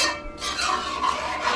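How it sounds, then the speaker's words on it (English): Flour parching in a pan over medium to medium-high heat for Guyanese parsad, stirred with a utensil that makes close, dry scraping and rasping strokes in a steady rhythm, alone with no voices. "you guys are going to notice that the flour is not as hard to stir and not as heavy"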